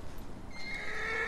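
A white horse in the video game Ghost of Tsushima gives a short, close neigh, rising into a bright, shrill whinny that holds for most of a second.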